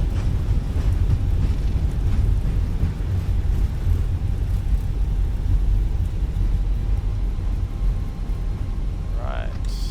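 A320 reverse thrust on landing rollout in a flight simulator, a sustained low, heavy roar that holds steady across the whole stretch before fading slightly, with no speech over it.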